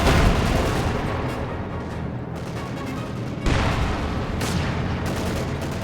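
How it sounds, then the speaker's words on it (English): Artillery and mortar fire in the real-time strategy game Company of Heroes 2, a dense, loud rumble of booms and gunfire, with a sharp new blast a little past halfway. "Mortars firing support as well."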